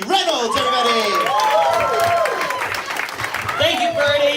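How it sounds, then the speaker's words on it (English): Comedy club audience at a stand-up competition applauds and cheers as the final competitor is introduced, a dense, steady wash of clapping with whoops and shouts throughout. "Please give a big round of applause to your final competitor for the evening, Mr. Jesse Reynolds, everybody."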